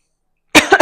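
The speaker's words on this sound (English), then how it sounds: "the spices are very strong, so you can have a little bit of cough because it's too strong" A single sharp cough, with a brief two-part follow-up, breaks out after silence, set off by strong spices being ground with jaggery for pani puri.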